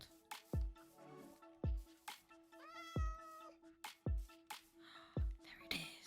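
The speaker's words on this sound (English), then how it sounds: "I can hear a cat. Where's the cat?" A cat in the video game Minecraft meows repeatedly, a series of short, clear mews spaced about a second apart, with soft thuds of game sound between them.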